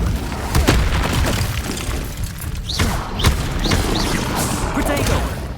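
An Incendio fire spell is cast during combat in the video game Hogwarts Legacy: loud, close bursts of flame and booming thuds over a churning roar, with quick whooshing sweeps between the hits.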